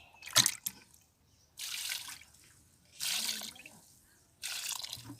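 Homemade liquid fertilizer is poured by the glass into potted plants in a rooftop garden. Short, faint splashing pours come in three or four separate bursts with quiet gaps between them, and there is no talk.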